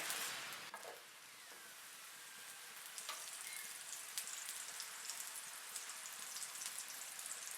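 Paratha frying in ghee on a pan over medium-low heat, a fine, faint continuous crackling sizzle with a few small pops and a light knock near the start, no talk.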